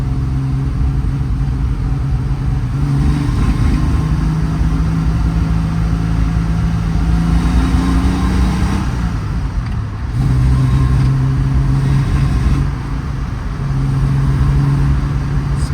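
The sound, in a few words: Triumph TR6 engine idling and pinging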